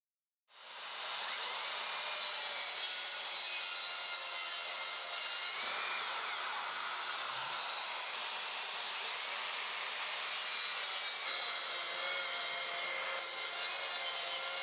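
Makita circular saw running on a guide rail and cutting through wood, a steady loud whirring, rasping cut that begins abruptly and holds for the rest of the clip, with no voices.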